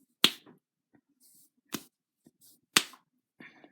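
Loud knuckle cracking rings out as three sharp, isolated pops about a second and a quarter apart, each snapping crisply out of near silence with faint rustling in between.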